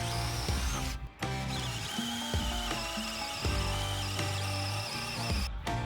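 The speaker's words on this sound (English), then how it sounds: "drilled holes using a 7/8 inch wood bit. This 200-year-old poplar was really tough to drill through" A power drill with a 7/8 inch wood bit whines and bogs down in bursts as it bores into tough 200-year-old poplar, with brief pauses between runs.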